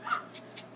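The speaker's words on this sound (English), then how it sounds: "you can hear my dog barking in the background" A pet dog makes three short, faint barks or yips in the background of an indoor room, evenly spaced across less than a second.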